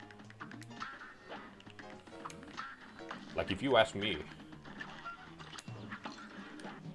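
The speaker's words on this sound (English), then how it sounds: "Turns out the ducks do hurt you." Ducks quacking in the video game Cuphead, quick cartoonish quacks scattered under someone talking, with a louder burst midway.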